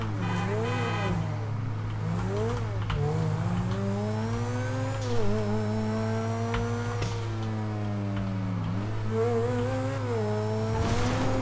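A car engine in GTA V on PC, revving up and down in rising and falling sweeps with steady hum underneath and brief tire squeal, continuous and close throughout.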